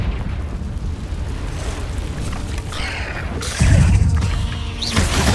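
Confringo fire spell blasts inside a cave in Hogwarts Legacy, a rumbling ambience that swells into a heavy, booming burst midway and holds loud to the end.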